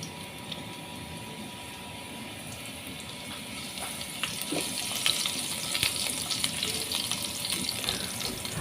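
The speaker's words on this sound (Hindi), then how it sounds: "हल्का सा इसको फ्राई करेंगे" Chopped garlic frying in oil in a pan for Singaporean rice, a steady crackling sizzle that grows slightly louder and busier partway through, with no talking.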